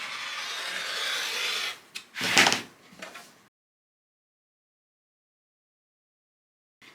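A rotary cutter slices a strip from quilting fabric: a soft, close scraping rub lasting under two seconds, then a sharper swipe and a few small clicks, followed by silence.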